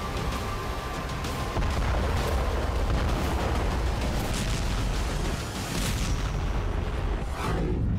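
Heavy rumbling blasts from 500 kg bombs dropped from the air in a war zone roll on as a dense, continuous low roar, loud and distant-sounding, with shifting bursts and no voices.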